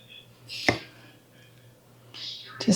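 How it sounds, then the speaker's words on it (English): A big heavy knife chops through frozen meat for kabobs: two sharp, loud thwacks about two seconds apart, each with a hard impact on the board. "Love these big heavy knives that just make no work of this frozen meat whatsoever."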